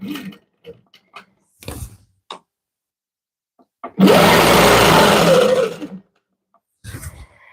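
A sewing machine runs stitching in the ditch on a paper-pieced quilt, a loud, close, steady whir lasting about two seconds between short gaps filled with quieter handling knocks and taps.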